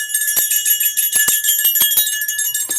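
A bright, ringing bell chimes with sustained high metallic tones, struck a few times in an irregular pattern and heard up close and loud.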